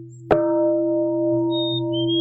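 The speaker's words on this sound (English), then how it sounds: "with the bell sounding at Deer Park Monastery in California" A monastery bell at Deer Park Monastery in California is struck once, its sharp clang blooming into a long, clear, ringing hum that sustains steadily without other sounds.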